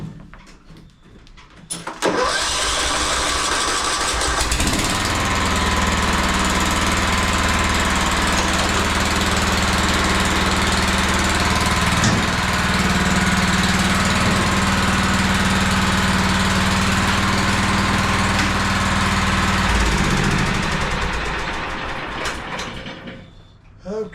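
A John Deere L110 riding mower with a Kohler Command 17.5 hp engine runs steadily at close range while backing up, a loud continuous engine drone with a low hum that holds for about twenty seconds before cutting out.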